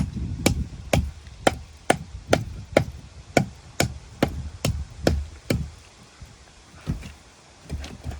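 A concrete block is broken by hand with a hammer on a building site, about a dozen sharp, evenly spaced blows ringing out loud and close, slowing and thinning toward the end.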